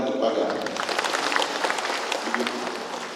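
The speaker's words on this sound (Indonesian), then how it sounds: "tepuk tangan untuk pagar." A church gathering claps for the fence built in front of the church, a dense run of applause with some voices mixed in beneath the clapping.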